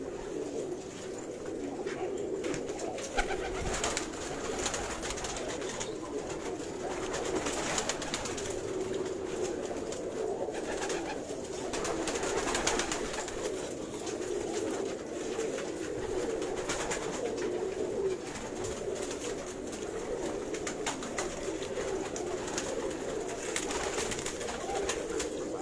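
A large flock of high-flyer pigeons on a rooftop keeps up a continuous low cooing chorus, with occasional bursts of wing flapping and scattered noise over a steady background.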